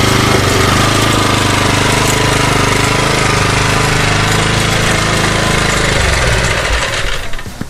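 CAIMAN MOKKO 40 C2 petrol cultivator running in reverse, a loud, steady close-up engine drone with rough clattering that holds for most of the time, then drops away near the end.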